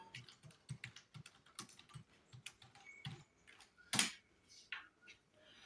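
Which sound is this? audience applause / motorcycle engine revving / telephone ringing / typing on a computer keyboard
typing on a computer keyboard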